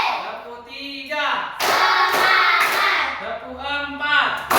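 Children clapping hands in a classroom rhythm game, a series of loud, sharp claps in a quick pattern, with group chanting between the bursts.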